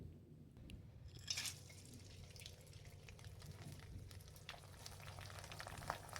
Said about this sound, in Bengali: এভাবেই একটু নাড়াচাড়া করে আমি এগুলোকে ভেজে নিচ্ছি।